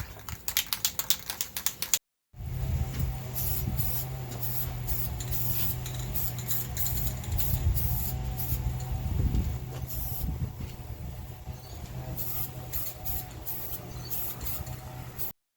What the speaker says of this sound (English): we get to spray paint.